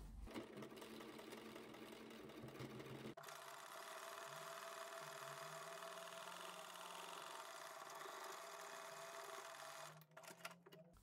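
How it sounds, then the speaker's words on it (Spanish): A sewing machine runs a line of stitching close along a seam on a multipurpose fabric bag, with a short rhythmic burst first and then a steady, close mechanical whir that cuts out near the end. "le pasamos una puntadita por aquí cerca pisando la costura"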